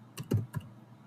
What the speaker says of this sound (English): I'm just going to go directly there by typing in